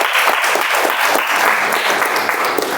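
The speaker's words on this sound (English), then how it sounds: "Let's give a good round of applause to the new ExCom." A room of meeting attendees claps for a newly installed executive committee, a dense, even burst of applause close by, sustained for a few seconds with no talking.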